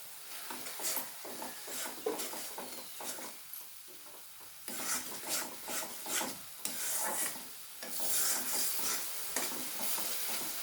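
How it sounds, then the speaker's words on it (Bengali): Green chili, poppy seed and melon seed paste frying in a pan, heard as a steady sizzle with repeated scraping and stirring strokes of a spatula, close and alone with no voices. "এবার আমি কাঁচা লঙ্কা, পোস্ত, চালমগজ বাটা দিয়ে দেবো।"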